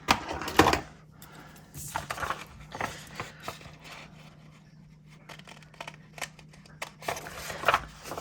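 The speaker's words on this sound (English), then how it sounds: "I'm going to draw my pencil line, and I'm going to cut with scissors." Scissors snip through paper along a pencil line in a quiet craft setting, a series of close, crisp cuts and rustles spaced irregularly over several seconds.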